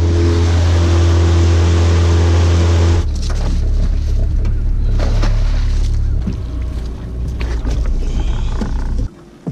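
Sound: outboard motor running on a fishing boat

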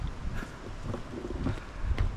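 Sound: wind on a lakeside hiking path

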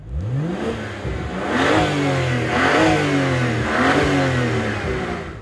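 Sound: car engine revving at full throttle

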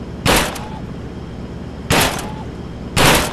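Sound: gunshots in the VR video game Gun Club

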